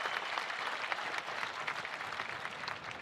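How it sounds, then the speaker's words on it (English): An audience applauds steadily at the Pro Football Hall of Fame enshrinement ceremony, a dense, even wash of many hands clapping that holds at a constant level throughout, with no voices over it. "Give them both a round of applause."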